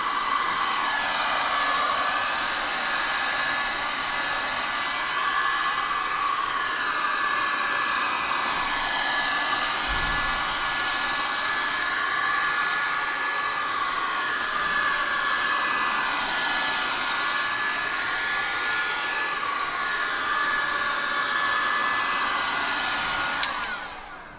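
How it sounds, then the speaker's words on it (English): An air blow gun blasts compressed air over a boat part, a loud, steady hiss that holds for over twenty seconds with slight wavering in pitch, then stops abruptly. "we'll just give that a blow off with the gun"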